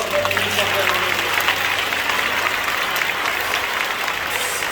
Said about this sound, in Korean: 이 시간 우리 하나님께 뜨거운 영광의 박수 올려주면서